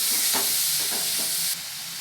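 Vegetables with salt and turmeric sizzle steadily in a hot frying pan while being stirred, a constant close hiss with a few soft scraping strokes and no voices.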